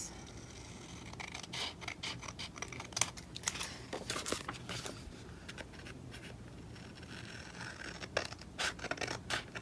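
Scissors snip through paper while a Happy Planner page is trimmed, giving a steady run of small crisp cuts and light rustling, close and fairly quiet, with no voices.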